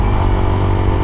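A small motorcycle rides along in Florida, its engine giving a steady, loud, continuous hum and rumble close by, with no voices.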